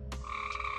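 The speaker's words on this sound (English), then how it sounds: "Forgive the frogs, they're excited too." Frogs croak close by outdoors, one sharp burst followed by a second call and a sustained tonal trill, loud and alone with no talking.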